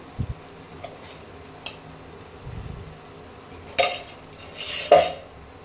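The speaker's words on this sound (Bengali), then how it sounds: "নুনটা দিয়ে নেড়ে দিচ্ছি" A spoon stirs salted spice masala for Bengali rohu fish kalia in a pan, giving a few scattered scrapes and clinks with faint sizzling between them and two louder stirring bursts near the end.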